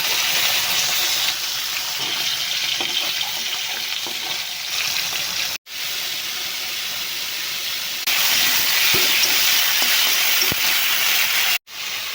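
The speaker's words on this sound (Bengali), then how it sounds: "এখন মাছগুলো ভাজা করে রান্নাটা করব।" Snakehead fish frying in a pan gives a loud, steady broadband hiss and sizzle that runs throughout, broken by two brief cut-outs of near silence.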